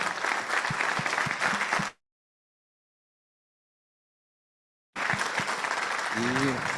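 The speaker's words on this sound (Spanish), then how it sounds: "Le damos un aplauso, por favor." Audience applause at a conference breaks off abruptly into complete silence, then resumes as a steady patter of clapping, with faint voices mixed in near the end.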